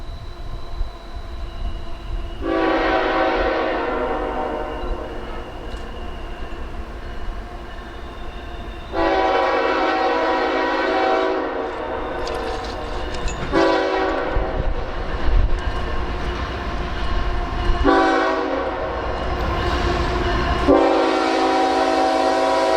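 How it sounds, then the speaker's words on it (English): A Union Pacific stack freight train sounds its horn in several long blasts of different lengths over a steady rumble of rolling wagons, close and loud. "we watched a Union Pacific stack train go into the hole to allow a tardy Amtrak 19 to pass in the opposite direction"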